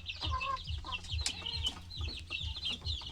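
A hen about to lay eggs clucks repeatedly and close, in short uneven bursts, with a few sharper calls and no talking.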